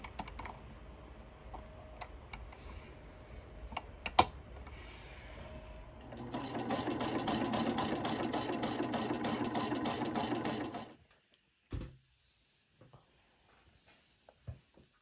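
A sewing machine motor whirs steadily for several seconds while winding bobbins, after some light clicking and tapping, then stops, followed by a couple of soft knocks.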